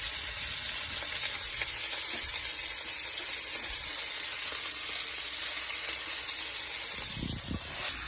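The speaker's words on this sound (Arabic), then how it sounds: "بدنا نجيب البصله اللي فرمناها نقليها بنفس السوائل" Chopped onion sizzles steadily in the zucchini's leftover cooking liquid in a pan, a loud, continuous close frying hiss with a brief stir or clatter near the end.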